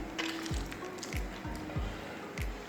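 Pieces of watermelon rind drop into water in a pan one after another, about five soft plops and squishy splashes spaced at a steady rhythm, close and moderately loud.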